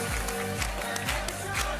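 Studio audience clapping on the French TV game show Strike hosted by Vincent Lagaf' comes through as dense, even applause over a pulsing low music bed, continuous and fairly loud.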